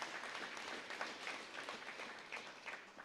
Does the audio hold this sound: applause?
yes